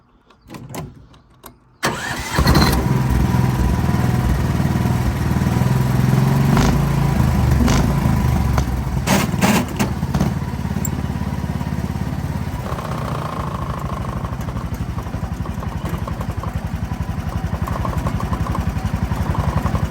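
A red car's engine cranks and catches after a brief quiet moment, then runs at a loud, steady idle with a constant rumbling drone close by.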